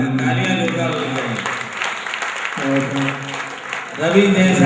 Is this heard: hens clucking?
no